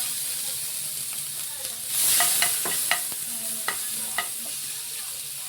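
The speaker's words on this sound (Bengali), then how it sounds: "দিয়ে আমরা এখানে মশলাগুলো ভালো করে আমরা ঠিক ভেজে নেব।" Chopped spices and curry leaves sizzle in hot oil in a pan for Batata Vada, a steady hiss broken by several sharp crackles and pops and the scrape of stirring.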